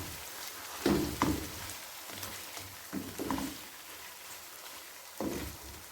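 Chicken pieces frying in oil with ginger and garlic in a pot for chicken biryani, a soft steady sizzle with a few louder stirring clatters, close and fairly quiet, no talking.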